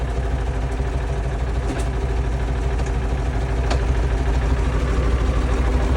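A three-cylinder air-cooled T30 (VTZ-2048a) tractor engine idles nearby with a steady low, throbbing chug, joined by a few faint clicks and knocks, and no one speaking.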